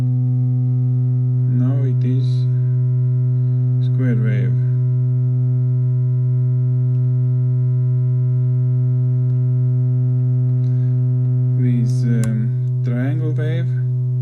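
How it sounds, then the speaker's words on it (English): An Erica Synths EDU DIY synthesizer holds a loud, steady, buzzy square-wave tone, while someone speaks briefly at intervals over it. "Now it is square wave."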